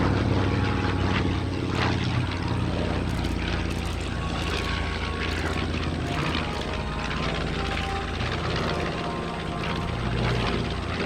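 A B-25 bomber's 14-cylinder Wright Cyclone radial propeller engines drone loudly and continuously at a New York airshow, a rough, throbbing roar from large piston engines running close by.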